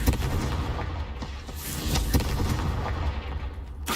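Confringo fire spell blasts in Hogwarts Legacy, a dense, continuous barrage of loud booming explosive impacts with several sharp bursts over a rumbling bed.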